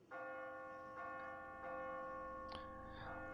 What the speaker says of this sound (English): If you were in that bell tower pulling that by hand, your ears would hurt so bad.